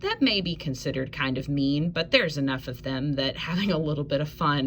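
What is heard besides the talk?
None of the usual background noises is heard.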